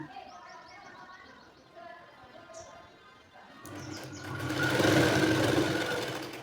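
A sewing machine stitches a puff sleeve seam, a steady close mechanical whirr that builds in the second half, with bird chirps and cooing in the background beforehand.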